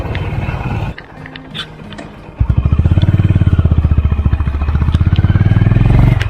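A Honda CB350 H'ness single-cylinder motorcycle engine is revved hard from near idle into a loud, close, rapidly pulsing thump that holds steady as the rider pushes the RPM, with no speech over it.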